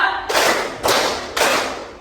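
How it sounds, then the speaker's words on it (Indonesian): Group clapping in counted unison, three sharp collective claps spaced about half a second apart, each a crisp burst that decays quickly, with no speech. "Tepuk 1, tepuk 2, tepuk 3"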